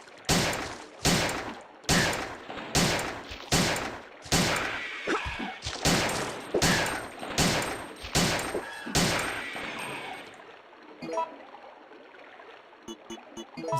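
Rapid bursts of gunfire in Resident Evil Nemesis, about a dozen loud, evenly spaced shots for ten seconds, then a quieter stretch of game ambience with a few faint clicks.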